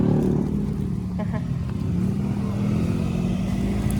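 A motorcycle engine drones steadily and loudly up close while riding, with wind rumble and road noise throughout.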